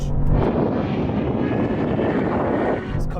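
A Ferrari 812 and a BMW M5 CS racing side by side, their engines blending into a loud, sustained roar with wind buffeting, steady throughout and trailing off slightly at the end.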